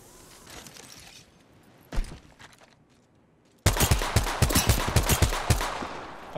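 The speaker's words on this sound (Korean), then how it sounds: "누가 날 쏘고 있어." Gunfire in the battle royale game Apex Legends: a lone shot, then a rapid, loud burst of automatic fire with sharp repeated reports, near and continuous until the end.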